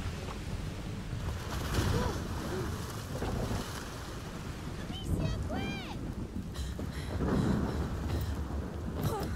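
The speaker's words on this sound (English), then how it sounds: "Amicia, we're sailing in the sea. Yeah, and the storm, kid." A stormy sea plays out in the video game A Plague Tale Requiem as a boat sails through roaring wind, rain and crashing waves, with rumbling thunder and a few tonal sweeps, all steady and loud, with speech mixed in.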